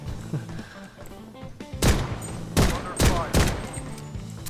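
Glock pistol fire in the mobile shooter Blood Strike: several sharp, loud shots in quick succession, spaced about half a second apart, over faint background game music.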